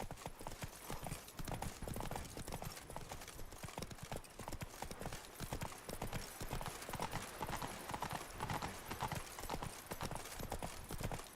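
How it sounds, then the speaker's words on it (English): Hooves of a horse galloping in The Witcher 3 video game, a steady fast clip-clop rhythm over ambient game sound, fairly faint, with a brief whinny-like snort and some distant voices. "Whoa there, Roach."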